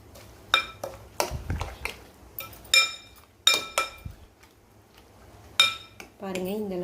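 Eggs and salt are beaten in a bowl for egg paniyaram, with sharp clinks of a utensil against the bowl in irregular bursts, close and fairly loud, with a brief voice near the end.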